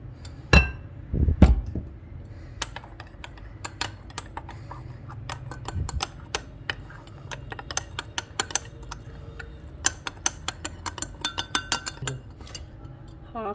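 Spoon clinking against a cup while coffee mixture is slowly stirred with hot milk poured in a little at a time, a run of light, quick taps at close range over a quiet background, with no talking.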